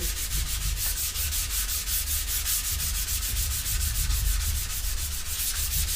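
Steady, continuous sanding of a skateboard deck with 320-grit sandpaper, a close, even rasping rub with a faint rhythmic pulse from the strokes and no pauses.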